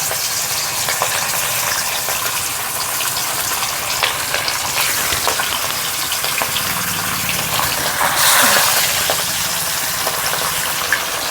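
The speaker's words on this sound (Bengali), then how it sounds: "তেল গরম হয়ে গেছে, দিয়ে দেবো মাছ।" Katla fish pieces frying in hot mustard oil for a Bengali rezala, a steady loud crackling sizzle that fills the whole clip with no talk, swelling into a brighter burst of spitting near the end.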